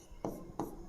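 Two quick marker or chalk strokes on a board during a physics lesson on spherical mirrors, close and soft, with brief spacing between them.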